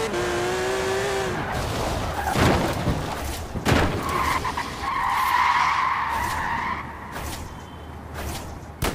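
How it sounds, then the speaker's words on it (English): Tires squeal and skid repeatedly as a car drifts in Forza Horizon 4, with engine whine and sharp screeching bursts alongside a few thuds. "drifting way too hard."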